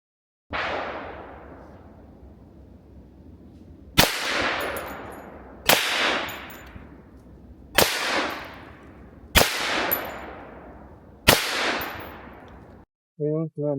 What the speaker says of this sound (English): Let's go to the rifle. Back 10 yards again, see how we do, and shoot with the rifle.